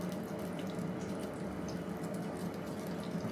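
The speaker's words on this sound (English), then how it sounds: "Can you hear that sizzling?" Batter poured over sausages crackles and sizzles steadily in a hot pan for Yorkshire toad in the hole, a faint, continuous hiss with no talking.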